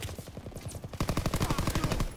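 Rapid automatic gunfire in Call of Duty WW2, a dense burst of evenly spaced shots that starts lighter and grows louder and tighter, continuing without talk.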